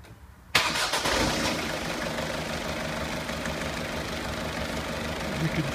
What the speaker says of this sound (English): So we'll just start up the vehicle.